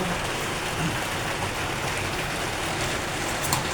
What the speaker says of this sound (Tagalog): Mahirap kasi lumabas ngayon kasi na ang lakas ng ulan.